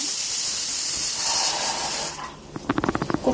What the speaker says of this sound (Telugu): చిక్కుడుకాయ ఫ్రై చేస్తున్నాను